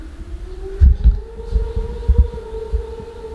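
Cyclone wind howls outside a house as a steady, eerie whistling tone over low rumbling gusts and thumps, continuous and fairly loud.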